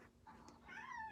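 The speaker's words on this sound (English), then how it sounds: "I'm sorry about my cat. He wants attention." A pet cat meows for attention indoors during a craft session, a short rising, tonal cry of about one second, close and moderately loud, with no talk over it.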